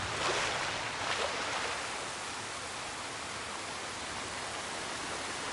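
Steady rushing waterfall in the video game Ghost of Yotei on PS5, a dense unbroken roar of falling water that holds at an even level from start to finish with no voices over it.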